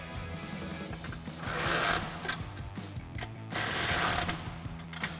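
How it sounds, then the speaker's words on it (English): Socket ratchet tightening 18mm nuts onto studs on a Jeep Gladiator JT bumper during a fog light install, giving rapid repeated pawl clicks in two loud bursts with quieter clicking between, close and alone. "Take our 18mm socket and we're going to tighten these down."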